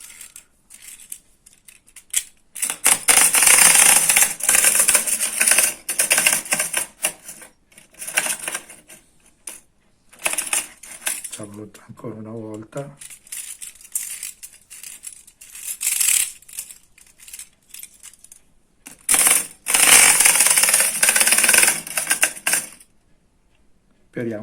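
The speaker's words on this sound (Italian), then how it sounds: "tutti questi giochi, essendo degli anni 30, sono tutti a funzionamento a molla" A 1930s spring-driven clockwork tin toy whirs and clatters in repeated bursts, rattling mechanically between pauses; a voice speaks briefly at one point.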